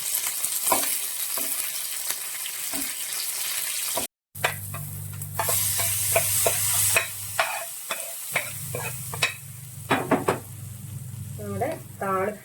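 An onion tempering fries in a pan for a taro stem curry, crackling and sizzling close by with spatula stirs and scrapes, pausing briefly before resuming louder, with some voice heard.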